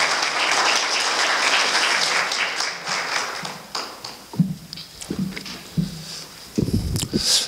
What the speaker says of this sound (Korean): 여러분 뜨거운 박수로 말씀을 감사하겠습니다